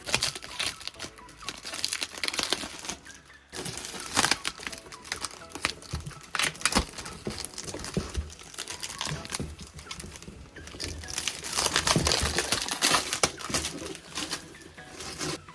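Plastic wrapping rustles, crinkles and tears as it is pulled off a 38-inch Blitzart Tornado electric longboard taken from its box, a busy, close stream of crackling and scraping with occasional sharper rips and no talking.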